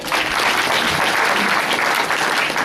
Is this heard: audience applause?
yes